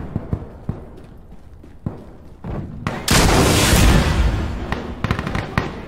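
Gunfire rings out during a night mission in a shooter video game: scattered sharp shots, then a loud sustained burst of rapid fire and blast noise lasting about two seconds before trailing off into more single cracks.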